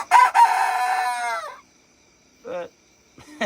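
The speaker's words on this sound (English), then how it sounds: "But pretty sure it's a rooster." A young rooster crows once, loud and close, a drawn-out call lasting over a second, followed by a couple of short clucks in an otherwise quiet setting.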